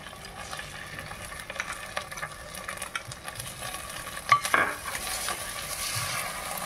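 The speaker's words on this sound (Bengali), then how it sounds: "এবার পোস্তটাকেও একটু কষিয়ে নেব।" Poppy seed paste being stir-fried in oil in a pan on low flame for a drumstick and curd curry, with a soft steady sizzle and scattered scraping stirs, one sharper clink near the middle, no talking.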